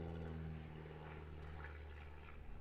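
An aerobatic aircraft engine in flight at an aerobatics championship gives a steady, droning propeller hum, continuous and fairly faint, with no talking.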